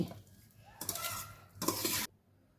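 Amla pickle being mixed in a bowl, with two bursts of wet stirring and scraping against the bowl, the second longer and louder, then quiet.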